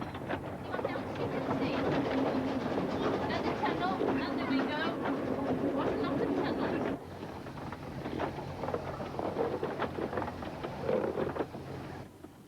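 A Talyllyn Railway narrow-gauge train runs along a twisting line in Wales, giving a steady rumble with rail clatter and wind buffeting throughout, dropping briefly partway before continuing.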